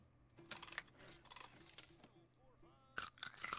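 Jawbreakers crunch between teeth in short, sharp bursts, close up, with a few quiet gaps and faint mouth noises between bites.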